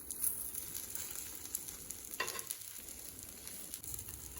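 Onion rava dosa frying in a little oil on a pan gives a quiet, steady sizzle with soft crackles, and no one speaks.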